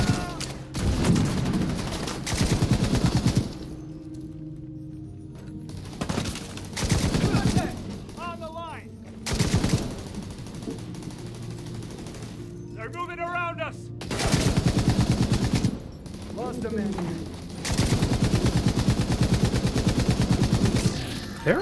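Automatic gunfire from a hostile turret in the Division 2 video game, rattling out in several loud sustained bursts with quieter pauses between them, mixed with in-game sound effects and brief voice callouts.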